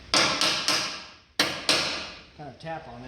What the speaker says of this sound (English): good idea to have a hammer